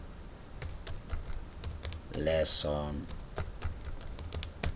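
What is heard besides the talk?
typing on a computer keyboard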